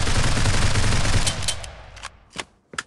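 An AR-15 rifle in the mobile shooter Critical Ops fires a dense, loud automatic burst that stops abruptly, followed by a few separate single shots with short echoing tails.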